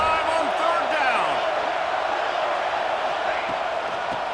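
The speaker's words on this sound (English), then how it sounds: "The Buckeye crowd alive on 3rd down." A stadium crowd of Ohio State Buckeyes football fans roars on third down against Purdue, a dense, continuous wall of loud cheering with scattered yells and whistles, steady throughout.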